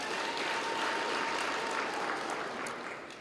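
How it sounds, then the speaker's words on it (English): A steady round of applause from the audience at a regional government address in Kavango West, Namibia, dense even clapping that holds strong, then fades slightly at the end. "Can we give them a round of applause?"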